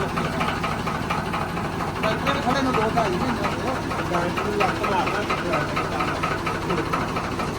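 A 1990 Swaraj tractor engine that had sat unused for two and a half months runs steadily after a jump start, a continuous rumbling drone heard close and loud throughout, with someone talking over it.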